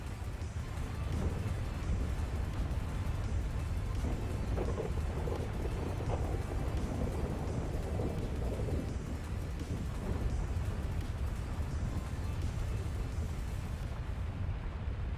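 A loud video game thunderstorm in GTA roleplay with the NaturalVision mod, deep continuous rumbling thunder over steady rain, heavy and sustained for the whole stretch, no talking.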